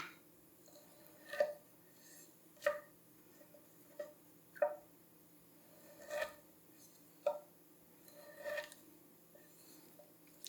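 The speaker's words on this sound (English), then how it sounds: "I'm gonna make little cubes for shakshuka" Chef knife cutting salami into small cubes on a board, a series of soft, close chops spaced roughly a second apart with quiet pauses between.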